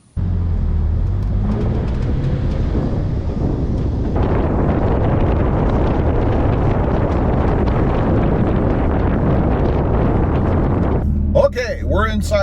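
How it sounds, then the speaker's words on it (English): Wind noise roars steadily around a moving Toyota Tacoma fitted with a roof rack, heard from outside while the truck is driving. A loud, broad rush holds for about eleven seconds and builds partway through, with a brief voice near the end. "I know mostly wind noise"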